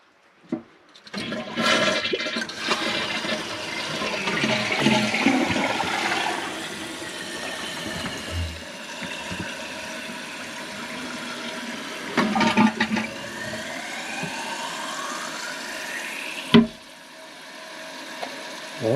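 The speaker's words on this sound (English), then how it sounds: "So far it's flushing good." A toilet flushes after a leak repair, a loud rushing swirl of water draining and then the hiss of the tank refilling, close and continuous with a few clunks.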